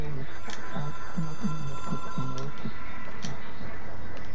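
A telephone rings in the video game Control, a repeated warbling ring pattern pulsing under a background hum, moderately loud, with some faint speech-like sound mixed in.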